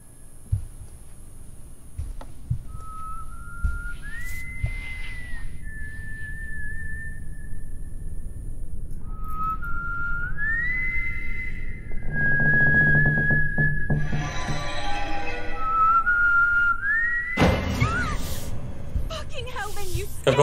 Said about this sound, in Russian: Ты постоянно одну и ту же мелодию насвистываешь